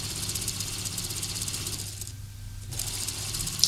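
A sewing machine stitches apron fabric with a close, steady mechanical whir that pauses briefly partway through and then resumes.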